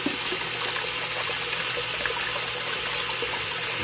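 Hot tap water runs steadily into a sink while stones from a rock tumbler are being washed, a continuous even hiss and splash with no talk over it.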